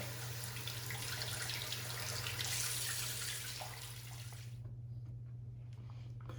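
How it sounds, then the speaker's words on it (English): Tap water runs steadily at a sink during washing up after a wet shave, a constant hiss that drops to a quieter trickle near the end, with faint mains hum beneath. "Let me go and wash my face, clean up the gear"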